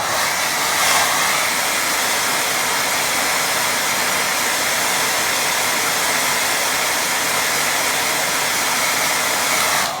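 Hair dryer blowing on a watercolour painting, a loud continuous close whoosh with a steady drone throughout and no talk.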